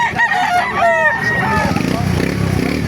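At a poultry market in Calumpit, Bulacan, a rooster crows loudly and close by, then a brief burst of clucking follows amid busy market background noise.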